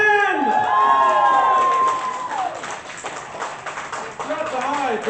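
Crowd applause and scattered cheering from an audience at a poetry slam, loud and dense at first, then thinning into steadier clapping with some whoops, with a voice speaking over it early on.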